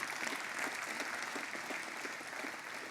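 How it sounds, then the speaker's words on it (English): Steady applause from an audience at an annual celebration program, a dense, even patter of many hands clapping at moderate level throughout, with no voices over it. "I hope that you'll give us another round of applause for Andrew Kroll"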